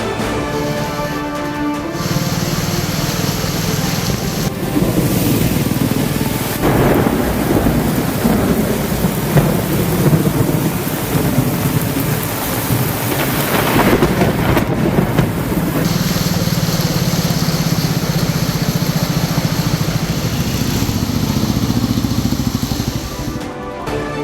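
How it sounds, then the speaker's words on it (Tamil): Heavy rain pours steadily over a city street in Thoothukudi during a thunderstorm, with rolling thunder rumbling through the downpour; loud and continuous throughout, with no voices. "தூத்துக்குடி மாநகரில் இடி மின்னலோடு கொட்டிய கனமழை."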